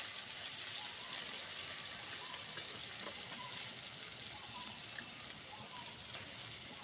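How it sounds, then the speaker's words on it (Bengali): A faint, steady wash of water runs and trickles as spice-rinsing water is poured into a pan of tengra fish curry, a soft continuous hiss with no talking. "এবারে আমি জল দিয়ে দেবো। এটা মশলা ধোয়া জল বন্ধুরা।"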